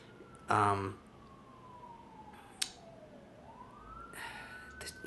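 A siren wails in the distance, its pitch sliding slowly down and then rising again, with a few sharp noises nearby and a loud burst at the start.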